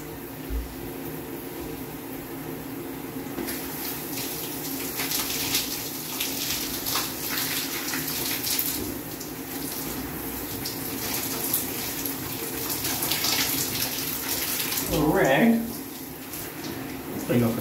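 Shower water runs steadily as a broad, even hiss through the whole stretch, with a brief splash or shift in the flow near the end.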